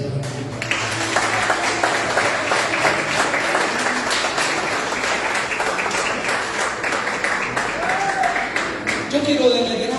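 Broad, steady crowd applause at a church service runs the full length, dense and sustained, with a faint voice mixed in underneath.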